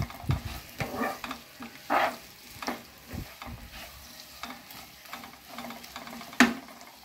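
Bitter gourd pieces fry crisp in oil, stirred often, so scrapes and knocks of the spatula come over a constant close sizzle.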